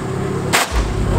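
At a BMW car meet, an engine is revved hard, with one sharp, loud crack partway through and then a deep, booming exhaust rumble close by.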